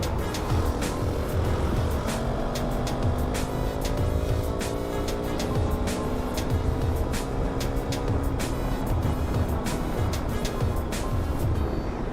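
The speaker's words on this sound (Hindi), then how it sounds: "एंड यहाँ का ट्रैफिक" Steady, dense road traffic on a mountain route, with continuous engine drone and passing vehicles close by throughout, at a constant loud level with no pauses.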